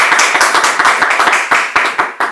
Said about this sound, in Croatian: Može jedan aplauz za naših knjiga.